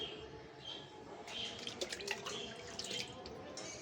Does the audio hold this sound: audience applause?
no